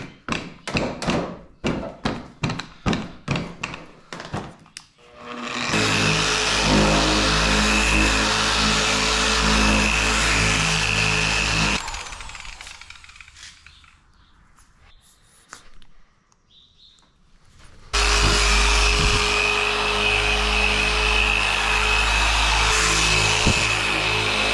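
A power polisher buffs wax on a John Deere X360 lawn mower, starting after a run of sharp taps and then droning loud and close with a low hum, stopping for several seconds, then starting up again.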